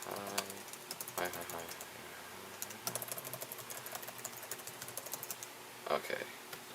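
Rapid keystrokes on a Lenovo ThinkPad X230 laptop keyboard, close and fairly quiet, coming in bursts of clicks with a brief pause near the middle, while a voice talks faintly in the background.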